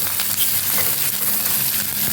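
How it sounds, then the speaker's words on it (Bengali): Chopped onion frying in oil with dried red chilli and cumin seeds, a steady close sizzle that runs without a break, with faint scraping now and then. "পেঁয়াজ কুচিটাকে আমি একটু হালকা লাল করে ভেজে নেব।"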